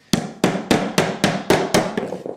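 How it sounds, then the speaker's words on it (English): A hammer turned on its side taps a nail into a carpet gripper strip with eight sharp, evenly spaced knocks, close and loud, with no talking. "One is turn your hammer on its side,"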